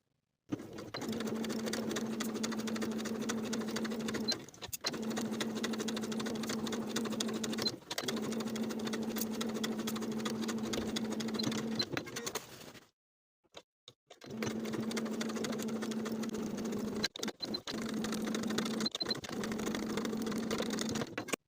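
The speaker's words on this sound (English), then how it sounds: "I'm going to sew along the side edges twice, first at 1/8 of an inch seam allowance, then once more at 1/4 of an inch seam allowance" Sewing machine stitching the side edges of a denim jacket, running in steady sustained bursts of several seconds each, separated by brief pauses and one longer stop, close and clear with no talking.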